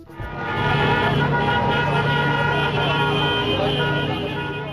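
Car horns honk in celebration amid crowds on the streets of Damascus, a dense, sustained wash of traffic and horn blasts with a voice talking over it.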